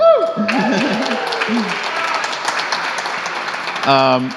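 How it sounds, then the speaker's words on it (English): Brief, thin applause from a small tech meetup audience, starting after a spoken line and continuing as a steady patter of clapping for a few seconds before another voice cuts in. "That's what we call a very super lame round of applause."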